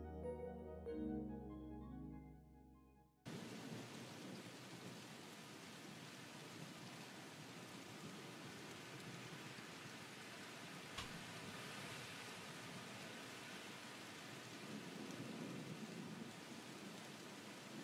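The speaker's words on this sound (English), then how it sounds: "One rainy day, somewhere on Earth." Steady rain pours in the opening of the farming game Everafter Falls, with a distant rumble of thunder beneath the constant hiss after a short musical intro; no one speaks.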